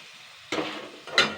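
Washed Gobindobhog rice stirred into sizzling masala in a pan, two short scraping-and-sizzle bursts, close and moderately loud, with quiet background between them.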